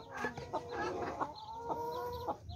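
Chinese silkie hens in a coop give a short run of close, rhythmic clucks, about half a dozen evenly spaced calls with a faint chirp between them, and no voices.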